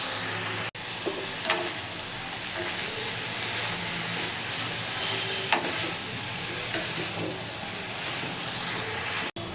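Broccoli and paneer stir-fry in a hot pan for a veggie pepper fry, a continuous close sizzle with scattered scraping stirs and a few sharp clanks of the utensil against the pan.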